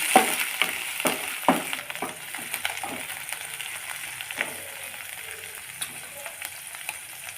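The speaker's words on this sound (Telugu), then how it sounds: "ఆయిల్లో ఫ్రై చేసుకోవాలి" Chopped green chili and coriander frying in hot oil in a pan, giving a moderate crackling sizzle with scattered stirring knocks that fade slightly toward the end, with no talk.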